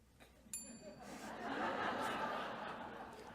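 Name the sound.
debate timing bells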